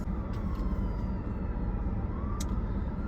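An ambulance siren sweeps faintly through stopped traffic beside a feed store, its rising and falling wail riding over a loud, steady low rumble of idling engines and road noise close by.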